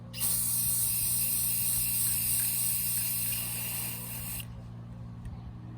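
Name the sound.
spray paint can spraying light gray on figure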